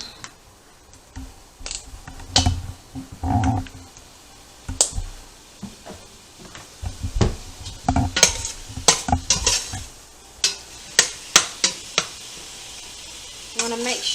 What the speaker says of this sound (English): So I'm going to ground my meat, cook it before I add anything to it. You put a little oil in it.